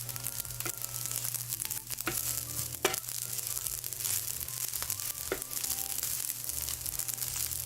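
Garlic rice frying in a pan, a steady, soft sizzle with scattered scraping and stirring clicks from a utensil, close and unbroken, with no talking.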